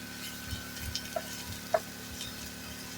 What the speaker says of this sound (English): And just mix that in there real good in the olive oil